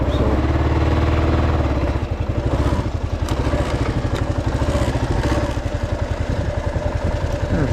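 A motorcycle rides up a rough trail section on the Culross tract, its mid-pitched engine running steadily and loud, with rhythmic clatter and thumps as the suspension soaks up bumps.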